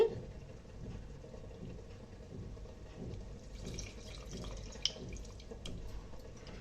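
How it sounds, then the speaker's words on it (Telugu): Water trickles and splashes steadily into a cooking pot of onions and tamarind juice, a continuous low pouring with occasional drips, close by and moderately quiet. "కొంచెం వాటర్ యాడ్ చేసుకొని"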